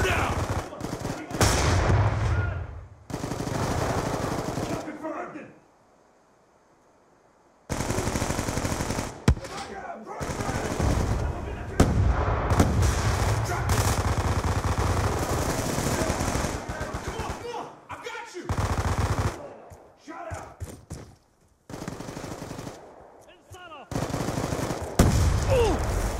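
Rapid automatic gunfire and bursts of shots from a first-person shooter match in Hardpoint mode, loud and sustained with brief lulls, including a near-silent gap, while a voice talks over the action.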